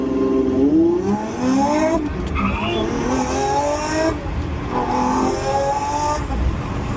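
A Lamborghini Aventador SVJ on a night drive revs hard from inside the cabin, its engine note climbing repeatedly through gear changes, loud and close, with a voice briefly over it.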